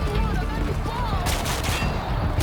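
Gunfire in the video game Call of Duty: Modern Warfare 2 during the No Russian mission, a dense burst of rapid shots lasting a couple of seconds, loud and continuous with sharp cracks over a dull rumble.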